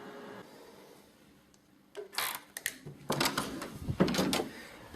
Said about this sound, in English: I have a card-operated door